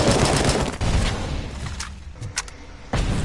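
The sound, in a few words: enemy turret firing in video game Robocop Rogue City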